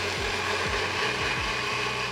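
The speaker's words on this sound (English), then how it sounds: "back onto the blender we go and get everything nice and friendly and emulsified" A kitchen blender whirs hard through a jalapeño and cilantro crema, a loud continuous motor drone with a few quick dips in pitch as the thick mixture churns, and no talking.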